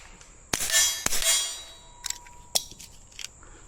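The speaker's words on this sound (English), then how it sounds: "We're going to start off with the supersonic ammo again. Put a few out into the woods to give you an idea here." A suppressed S&W Victory pistol with a Tandemkross Comet barrel fires supersonic rounds into woods outdoors, about five sharp cracking reports with metallic clanks, spaced irregularly and each ringing briefly before fading.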